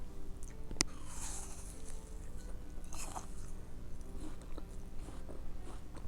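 A peanut caramel chocolate is bitten and chewed close by, with one sharp snap early on followed by soft, quiet chewing and crunching over steady low room noise.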